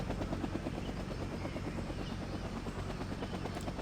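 A helicopter in a Vietnam War video game flies with a steady, dense rotor chop that stays loud and constant throughout, with no voices over it.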